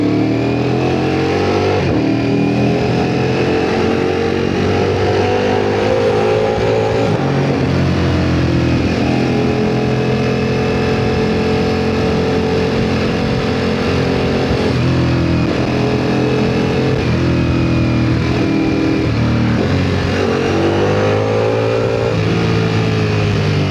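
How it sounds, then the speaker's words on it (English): A Ducati Panigale V4S superbike rides through downtown Bangkok traffic, its engine droning loud and close with rising and falling revs and repeated throttle swells over steady road noise. "Clearly the Ducati Panigale V4S is not made for city riding"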